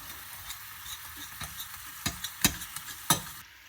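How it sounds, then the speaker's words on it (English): Grated coconut and jaggery with cardamom powder being stirred in a pan: a low sizzle under several sharp spoon scrapes and taps, irregular and close. "So just keep stirring this until all of the jaggery melts completely."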